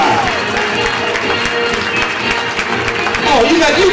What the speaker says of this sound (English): Oh, you got clapping loud enough in here.